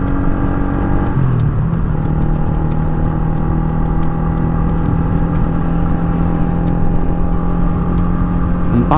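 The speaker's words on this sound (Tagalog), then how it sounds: "Ang pangit ng tunog ng motor natin mga paps na may nag-vibrate." A motorcycle idles steadily and loudly up close, its engine drone mixed with a buzzing, rattling vibration from a loose step grill, holding a constant level throughout without speech.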